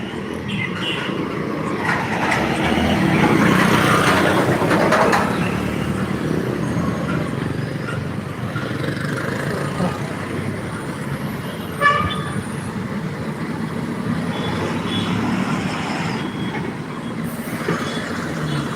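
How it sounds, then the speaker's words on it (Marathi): Busy traffic on the NH4 highway bypass, a steady broadband roar of passing vehicles with loud horns tooting over it, one sharp blast standing out near the middle, no talking. "पहा ट्रॅफिक कसं आहे ताई दादांनो ट्रॅफिक पहा कसे आहे एन एच फोर हायवे"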